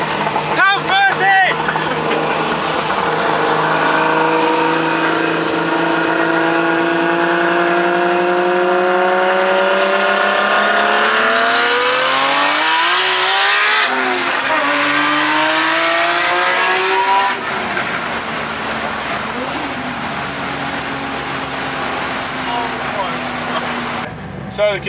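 Race cars at an all-Japanese car day at Lakeside raceway, including a ute and an MX-5, rev and accelerate past, engine notes rising and falling as they sweep by loudly, with people talking over the noise throughout.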